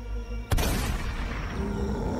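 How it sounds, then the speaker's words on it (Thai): A single loud gunshot in a narrated Thai horror story, a sharp broadband crack at about half a second followed by a sustained rumbling roar that stays strong to the end. "ทันทีที่เสียงปืนดังแผ่สนั่นขึ้น"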